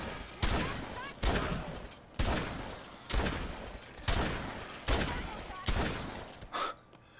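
In Dead Rising 2, a shotgun fires seven loud, close blasts at a steady pace of about one per second. Each shot has a sharp attack followed by a short decaying tail, and a faint clatter comes after the last shot.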